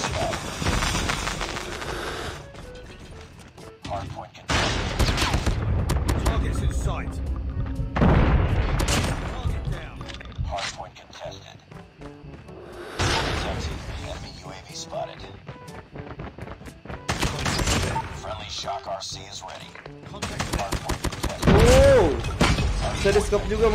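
Shotgun blasts from a JAK-12 in a mobile shooter game, heavy booming shots in scattered bursts and clusters with brief pauses between, heard under excited voices talking over the gameplay.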